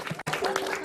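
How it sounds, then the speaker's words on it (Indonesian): A short burst of clapping and cheering from a crowd, dense and continuous, with a brief cut of near-silence partway through. "Tepuk tangan."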